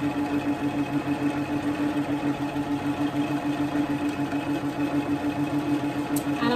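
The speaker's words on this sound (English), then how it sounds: "I'm just going to start with a straight stitch." A domestic sewing machine runs a straight stitch with a steady, rapid mechanical hum and regular pulsing rhythm, close and even throughout, with a brief spoken phrase near the end.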